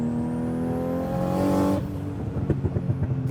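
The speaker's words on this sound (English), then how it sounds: "now the exhaust is dumping from down there" A Nissan Skyline R32 GTR with about 900 hp revs up with its exhaust dumping through an open cutout. The loud, raspy note rises, then drops into a rough, popping idle.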